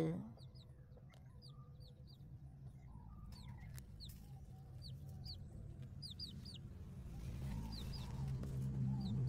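A hen straining to lay an egg gives repeated short clucks and calls over a low rumble of distant traffic, with other birds chirping faintly and the background growing louder toward the end.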